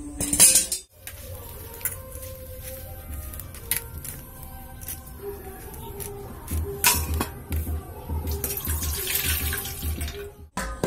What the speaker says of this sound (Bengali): এখন ফুলগুলোকে ভালোভাবে ধুয়ে নেব।